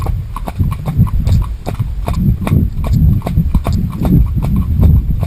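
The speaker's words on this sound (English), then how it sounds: "she can keep trotting for longer, and she doesn't just stop dead, you know, like young horses do" A ridden horse trots along a forest track, hooves clip-clopping in a quick, even two-beat rhythm that stays close and loud throughout, with faint breathing and tack noise between the footfalls.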